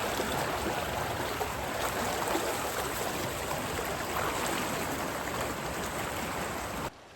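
A wintertime creek swollen with extra water rushes steadily, producing a continuous broadband wash that holds even for about seven seconds before cutting off abruptly.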